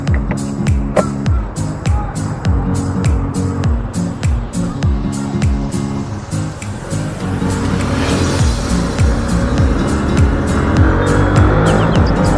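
A Honda Wave 110i motorcycle being ridden: a close, loud engine whose pitch climbs and drops through gear changes, with sharp regular ticks over the drone.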